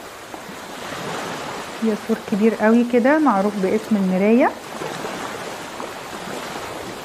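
Sea waves wash steadily onto the shore at Dekheila beside an old sea wall, a continuous broadband surf rush that runs through the whole stretch while someone talks briefly in the middle.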